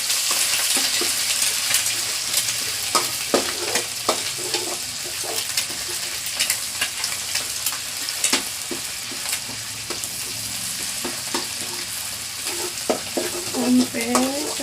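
A ground spice paste stir-fried for Indonesian street-style fried rice: a continuous sizzle with frequent sharp clacks and scrapes of a spatula against the pan, moderately close.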